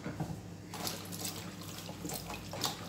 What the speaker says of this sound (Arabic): نحطوها في اناء ونصبوا لها الماء هكذا ونغسلوها